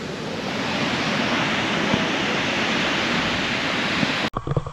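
Sea waves break on the beach at Da Nang in a steady, broad wash of surf that fills the scene with continuous rushing noise, ending abruptly with a few closer splashes and knocks.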